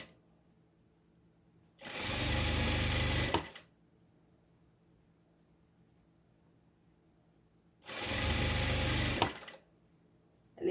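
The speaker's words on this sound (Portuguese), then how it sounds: "continuo a minha costura" Sewing machine stitching fabric for a plush toy, two separate bursts of rapid mechanical whirring, each about a second and a half long, with quiet pauses between them, close and clear.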